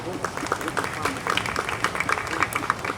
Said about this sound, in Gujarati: Please, એમના માટે તાળી થઈ જાય.